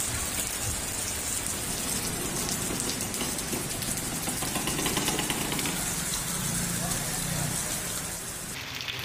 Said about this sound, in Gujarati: શહેરના મોટાભાગના વિસ્તારમાં વરસાદી માહોલ સર્જાયો છે